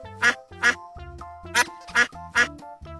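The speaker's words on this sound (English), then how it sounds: "Duck." A duck quacks five times in an uneven rhythm, each call loud, close and nasal, with a low droning background between the quacks and no talking.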